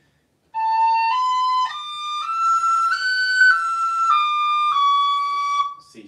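A tin whistle plays a single reel, a clear sequence of sustained pure notes stepping up and down in pitch, loud and solo with no talking.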